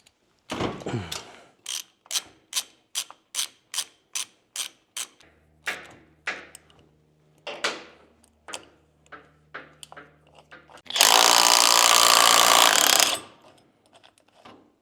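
Hand tools work on the stock steering column of a squarebody truck to pull off the steering wheel. A rapid series of sharp ratcheting clicks comes first, then scattered metallic taps, and finally a loud two-second burst of air-tool whirring.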